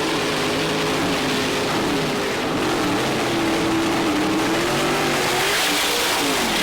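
Pro Stock drag race cars at a PDRA event roaring down the strip side by side, a loud continuous engine blast with rising pitch, heard at a distance with no voices over it.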